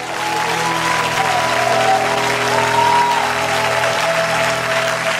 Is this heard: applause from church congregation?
yes